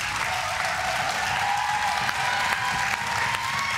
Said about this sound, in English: This is something you might have missed as an artist, to have yes, an applause from a live crowd.